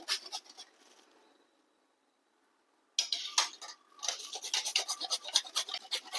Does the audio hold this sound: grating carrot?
yes